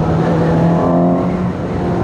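A 2018 Suzuki GSX-S 750 motorcycle engine holds a steady, loud, close drone with a constant pitch throughout, with no clear rise or fall in revs and no talk.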